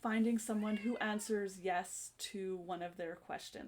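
A pet cat meows in the background of a home setting, faint and intermittent beneath continuous close talking from a teacher explaining a classroom activity.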